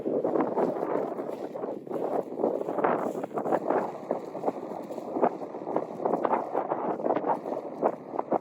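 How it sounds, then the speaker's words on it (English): Cold wind gusting across an open Scottish mountain trail, buffeting the microphone in a steady rough roar with irregular louder surges throughout. "It's a cold wind blowing on us."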